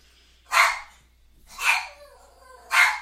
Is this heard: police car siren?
no